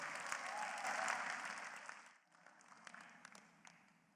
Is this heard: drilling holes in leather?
no